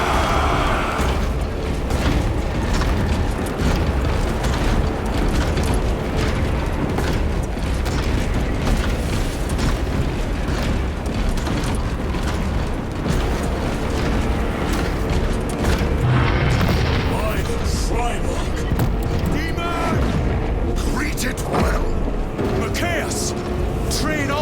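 Warhammer 40k Space Marine 2 battle rages with continuous booming explosions, rattling gunfire and mechanical clatter, dense and loud throughout, with voices shouting orders over the din.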